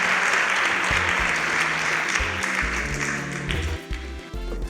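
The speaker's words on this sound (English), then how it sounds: "Please, a round of applause for Jedediah and Tejeri" A studio audience at a Nigerian innovation competition show applauds as two contestants leave the stage, with dense sustained clapping over a low musical bed that eases slightly toward the end.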